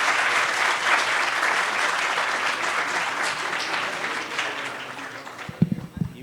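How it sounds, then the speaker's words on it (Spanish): Audience applause at a university lecture on Mexican institutions, a steady wash of clapping that thins toward the end, where a few louder handling thumps cut through. "Bueno, le podemos dar un aplauso."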